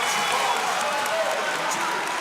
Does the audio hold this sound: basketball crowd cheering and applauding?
yes